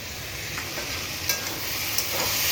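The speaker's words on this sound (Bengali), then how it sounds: "চিচিঙ্গা ভাজা হয়ে গেছে।" Sliced snake gourd fries in a pan with a steady broadband sizzle, punctuated by a few soft scrapes and clicks of a spatula stirring, close and moderately quiet, with no talking.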